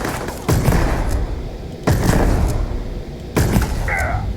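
Three loud Big Bang gunshots fired from the hip in the Starfield video game, each a sharp booming blast with a short decay, spaced about one and a half seconds apart.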